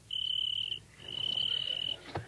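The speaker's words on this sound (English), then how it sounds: "Now, George, he's just a little cricket and he's not hurting you." A single cricket chirps in two long, steady trills in a 1949 radio comedy scene, fairly loud and close, with a brief knock at the end and no talk over it.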